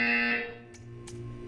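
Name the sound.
buzzer in Portal 2 video game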